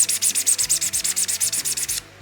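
Rapid, even back-and-forth rasping of sandpaper on a resin model kit, about fifteen quick strokes in a steady rhythm, close and loud, then it stops.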